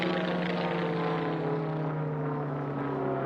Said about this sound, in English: you can see Paul Newman's beautiful airplane